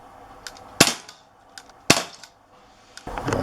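Shots from an Umarex Walther PPQ .177 CO2 pellet pistol: two sharp, close cracks about a second apart, with faint clicks between and a rustle of handling at the end.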